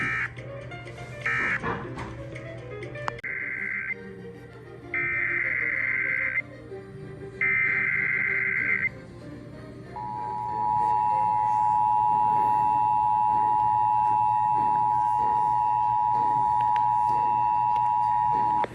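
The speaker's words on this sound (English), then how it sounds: "The following tones will conclude this test." Emergency Alert System monthly test tones from King County: a series of loud buzzing data bursts followed by a long steady attention tone, with faint barking and background noise beneath.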